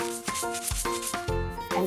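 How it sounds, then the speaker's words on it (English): A spoon stirs sugar into jelly powder, making short rough scraping strokes over steady background music. "I'm just mixing the sugar with the jelly powder so it will melt better in the water"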